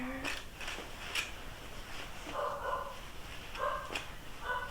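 A dog barks indoors at home in a few short, sharp bursts spread across the moment, at moderate distance over a quiet room hum.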